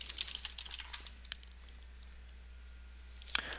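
Quick, light keystrokes on a computer keyboard while code is entered in a Python console, clustered at the start and again near the end, close and quiet against a low steady hum.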